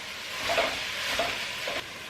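Ground lamb browning in a hot pan, with a steady sizzle and occasional scraping stir strokes, close and alone without talk.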